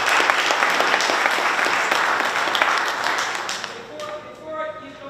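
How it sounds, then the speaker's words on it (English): A town hall audience at a gun violence meeting applauds a solicitor, steady dense clapping that thins out toward the end as a voice begins speaking over the last moments. "We get a round of applause for Mr. Ed Clemens."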